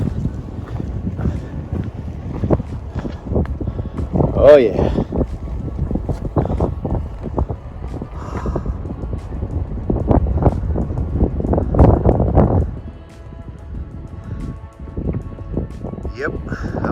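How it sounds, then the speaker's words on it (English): Wind buffets the microphone on an exposed stretch of the Appalachian Trail, a rough rumbling gust that rises and falls throughout, with a person speaking briefly over it. "A little windy."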